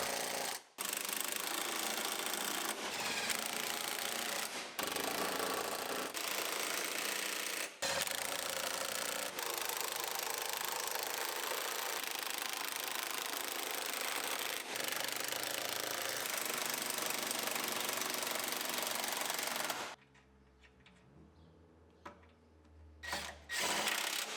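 A power tool rattles continuously as a Yukon truck body is bolted back onto its frame, loud and close with a few brief pauses and a quieter stretch near the end.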